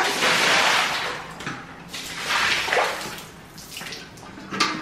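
Water gushes and splashes as it fills a container for dogs, coming in loud uneven surges with brief lulls between them.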